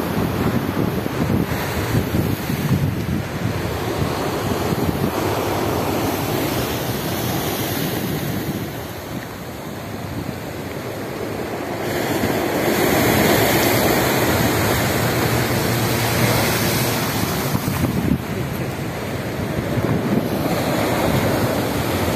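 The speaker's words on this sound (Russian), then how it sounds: "Сегодня обалденные волны" Stormy sea waves breaking on the beach at Lazarevskoye, a continuous loud roar of surf mixed with wind, with surges of crashing water rising and falling in steady succession and no voices.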